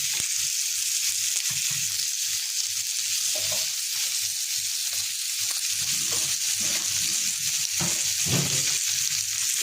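Flour roux with milk being stirred in an overly hot pot for cheese sauce, a dense constant sizzling hiss with soft irregular scraping strokes underneath, close and fairly loud.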